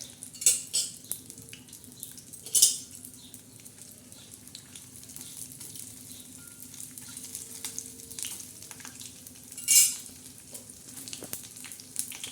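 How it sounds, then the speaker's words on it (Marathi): Dried Bombay duck (bombil) frying in oil in a pan, a steady close sizzle with occasional louder spatters and utensil clinks as the fish is stirred. "सर्वप्रथम तेल टाकलं आपण त्याच्यात टाकणार आहोत बोंबील आता हे बोंबील हे ना असे चांगले लालसर झाले पाहिजे"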